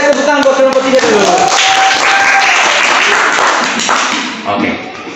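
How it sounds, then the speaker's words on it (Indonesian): Classroom applause for a student group: a burst of clapping from a crowd of pupils, loud and close, mixed with shouts and a sustained whistle-like tone, fading toward the end. "Kasih tepuk tangan buat kelompok 3 dulu."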